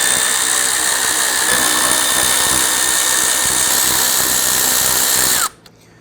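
A power tool spins out 8mm screws from the grille of a 1999-2004 Jeep Grand Cherokee, a loud, continuous close-up whir with a ratcheting edge that cuts off abruptly near the end.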